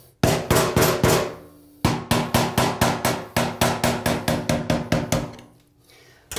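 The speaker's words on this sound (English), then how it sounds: "You can take an old chisel, put it on the edge of that, and kind of go square on just to create a dent." An old chisel hammered around a chrome-plated brass tub fitting: rapid bursts of sharp, loud metallic taps in quick regular runs, pausing briefly between series.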